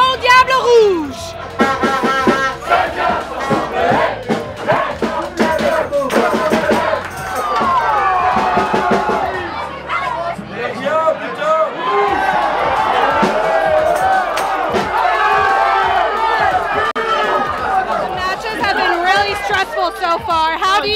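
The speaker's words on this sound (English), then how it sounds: "the crowd is getting crazy. It is pandemonium in here." Belgian supporters during a World Cup match, a loud excited crowd with chattering, shouting and whooping voices packed close together, swelling into bursts of cheering throughout.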